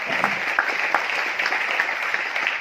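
Steady applause from a crowd at a gala dinner fills the whole stretch, a dense wash of clapping with a few sharper claps standing out.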